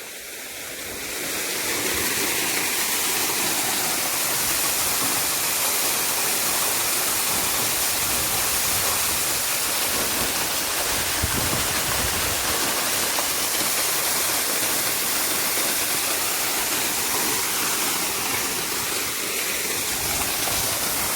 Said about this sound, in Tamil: இது வந்து போர் தண்ணி அப்படியே கிணத்துக்குள்ளே ஊற்றுறது